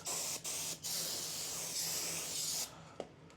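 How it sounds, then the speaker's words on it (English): Brake cleaner sprays onto a brake rotor of a 2024 Nissan Z in a few loud hissing bursts with short pauses between them, close by, followed by a faint tap. "We're going to spray it down with some brake cleaner and wipe it down. Spray both sides."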